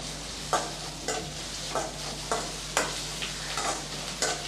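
Crushed garlic sautés in a pan for karuvadu thokku, with a spatula scraping in a steady rhythm about every half second over a soft background sizzle, close by.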